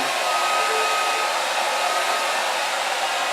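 A steady, loud hair dryer warming a wooden flute blank blows continuously with an even, unbroken whoosh and a faint whine, no voices.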